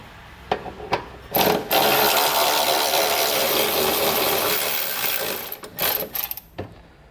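Ratchet wrench with an 18mm socket loosening trailer hitch bracket bolts on a 2019 Ford Taurus, a few short clicks followed by a long, steady whirring run, close and loud, then more brief clicking bursts.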